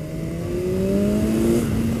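A BMW S1000XR motorcycle engine runs while riding, a steady rising tonal drone climbing gradually in pitch over rushing wind noise, loud and close.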